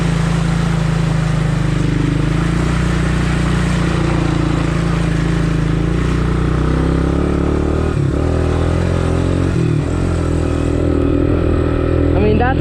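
Four-wheel-drive ATV ploughing through mud, its engine loud and close in a steady droning roar with brief dips as the throttle shifts.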